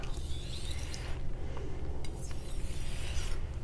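A knife is sharpened with light strokes on a whetstone, a Naniwa Professional (New Chosera) 3000-grit stone, giving close, gritty rasping rubs in a few short passes with no talk.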